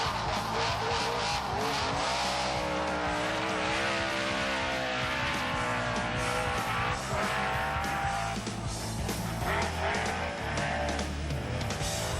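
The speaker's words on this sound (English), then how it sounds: "Next away is Possum Bourne in the Subaru Impreza World Rally car" A Subaru Impreza World Rally car's engine revs and roars continuously on a 2001 mountain hill-climb race, loud and close, with shifting pitch as it accelerates, skids and changes gears.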